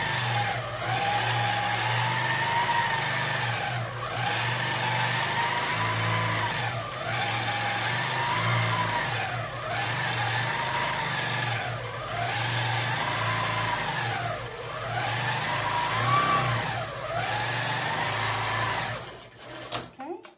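Longarm quilting machine stitching free motion, its rapid needle whir rising and falling in repeated swells as the stitching speed changes, with a steady motor hum beneath and a voice talking over it.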